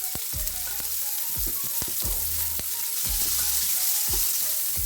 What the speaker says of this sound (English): I'll just go ahead and add the sweet onion to the oil.